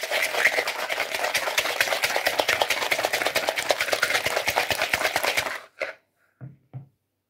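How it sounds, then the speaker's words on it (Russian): Quick, steady whisking of egg, sugar and a pinch of salt in a bowl for pancake batter, a rapid rhythmic clatter lasting about five seconds, then stopping, followed by a few soft knocks. "Яйцо, сахар, щепотка соли. И все хорошо перемешиваем."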